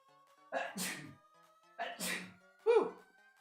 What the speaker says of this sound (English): Oh, I got a sneeze coming.